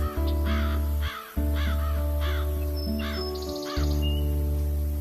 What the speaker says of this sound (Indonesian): Wah, Ita, lihat burung itu.